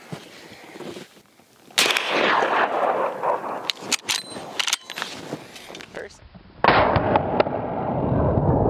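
Tactical Henry .45-70 lever-action rifle firing, sharp loud reports with exploding targets and debris, several shots in a cluster and a longer blast near the end, voices in the background.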